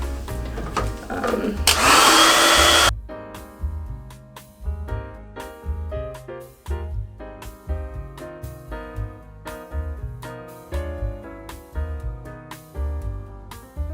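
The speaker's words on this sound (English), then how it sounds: "I literally blow dry my hair." A hair dryer blows on hair in a loud, steady rushing burst of a second or so near the start, then gives way to rhythmic music with a steady beat for the rest.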